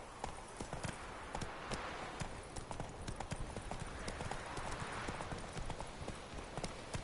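Roach, a horse in The Witcher 3: Wild Hunt, galloping with a fast, continuous run of rhythmic hoofbeats that stays steady and close throughout.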